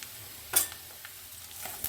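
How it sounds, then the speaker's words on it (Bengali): Nigella seeds (kalonji) frying in hot oil in a pan, a faint steady sizzle with a sharp spatula scrape or two, heard up close without any voices. "কালি জিরা দিয়ে ভাজবো তো চলো ভাজা ভাজা করে নিই"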